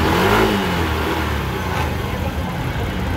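A Kawasaki Estrella 125 motorcycle engine with a fouled, blackening spark plug runs at a steady throttle after repair, a loud continuous engine drone that eases slightly after a brief swell.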